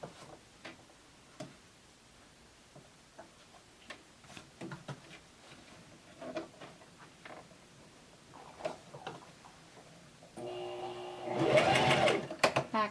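A sewing machine runs in a burst near the end, stitching elastic into the fold of a cloth face mask. Before it, quiet handling clicks and ticks are heard with no talk.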